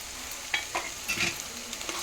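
Ginger garlic paste frying in a pan gives a steady, close sizzle with light stirring scrapes and small pops over it, moderately quiet, with no voices.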